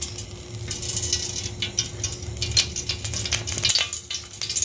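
Ghee sizzles steadily in a kadai over a gas stove, a continuous close hiss and crackle that keeps a fairly even level throughout, with a few faint metallic clinks.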